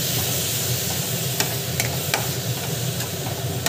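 Steady frying sizzle from food being sautéed in a pan before tomato puree goes in, a dense continuous hiss with a few faint clicks of stirring, close and alone without voices.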